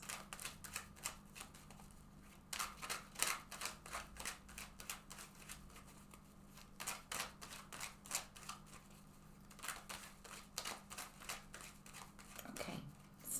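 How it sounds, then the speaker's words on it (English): An oracle card deck is shuffled repeatedly, quick crisp riffles and slapping card bursts coming in rhythmic runs, close and fairly quiet with no talking. "now I'm going to go ahead and shuffle this deck several times."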